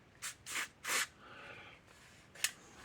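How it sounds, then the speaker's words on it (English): Contact cleaner from an aerosol can sprayed onto a weigh scale circuit board in three quick close bursts, then a soft hiss as it settles and one more short spray. "I'm going to spray some of this contact cleaner here on it."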